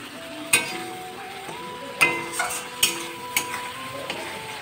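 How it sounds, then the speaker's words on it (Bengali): Potatoes frying with spices in a pan, a steady soft sizzle broken by several sharp clinks and scrapes of a spoon stirring against the metal, close and alone. "দেখতেই পাচ্ছ যে মশলা কষাচ্ছি আর কি"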